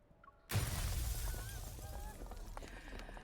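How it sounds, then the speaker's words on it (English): Window glass on an upper floor of a building bursts apart in a game scene, a sudden loud crash followed by a sustained scatter of breaking debris and rumble. "Glass from an upper floor of the building suddenly shatters, and the crowd below is startled"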